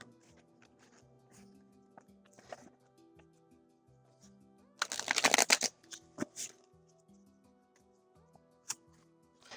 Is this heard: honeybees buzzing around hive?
no